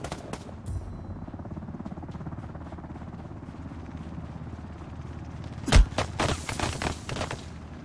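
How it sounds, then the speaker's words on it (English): Gunfire from a distant shooter in Ring of Elysium: steady faint rapid popping through most of the stretch, then a louder close burst of sharp shots near the end. "I swear to God, there's someone over there shooting"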